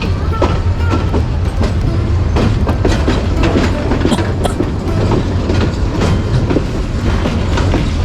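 A train rolls through Chittagong junction, with a loud, continuous rumble and rapid clickety-clack of wheels over rail joints heard from on board, steady and close with no talk.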